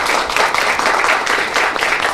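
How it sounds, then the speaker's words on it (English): A studio audience applauds together, a dense, loud, steady wash of many hands clapping that lasts throughout. "Could we have a round of applause, please?"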